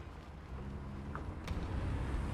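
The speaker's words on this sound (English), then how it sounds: "I hear what sounds like a big engine nearby." A big tank engine idles nearby in the War Thunder video game, a low steady rumble with a faint windy hiss that grows slightly louder toward the end.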